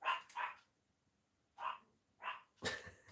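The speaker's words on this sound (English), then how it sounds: "That'll be the dog." A dog barks five times in two quick pairs and then once more, the barks moderately loud and slightly distant indoors, with no voices.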